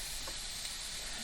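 Smoked ham and tomatoes sizzle steadily in a hot pan, a dense, continuous crackling hiss close up with no talk over it.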